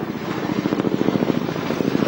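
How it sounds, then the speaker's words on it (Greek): Helicopter flying directly overhead above a large wildfire at Aspropoulia, a loud, steady rotor thump pulsing rapidly and evenly throughout. "ακούτε το ελικόπτερο"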